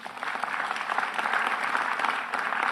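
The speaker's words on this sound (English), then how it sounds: "Please give her a round of applause for that." An audience at a mayor's community launch event applauds with dense, sustained clapping that holds at an even, moderate level for a few seconds, with no voices over it.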